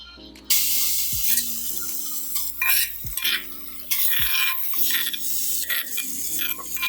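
Spices are sautéed in a saucepan, with bursts of sizzle and several scraping stir strokes at irregular intervals over a soft musical background.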